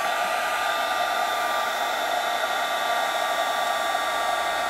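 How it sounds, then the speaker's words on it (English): Embossing heat gun blowing steadily as it melts embossing powder on a handmade New Year card, a close, even whirring roar with no pauses throughout. "you can see how quickly that powder is melting because the gun is all heated up"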